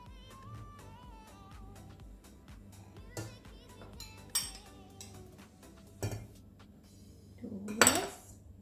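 A spoon stirs lemon juice into milk for homemade cream cheese, giving a soft continuous scrape and several sharp clinks against the container, close and fairly faint over a low background hum.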